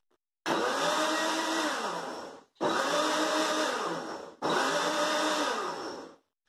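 A blender pulses a mix of oil, milk and three eggs for a cheese bread cake in three loud whirring bursts of about two seconds each. Brief gaps separate the bursts, and each one winds down as the motor stops.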